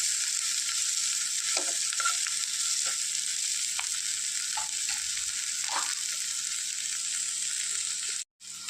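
Onions, green chillies and dried chillies fry in a pan with a steady, bright sizzle, broken by a few soft stirring knocks, close and without talk.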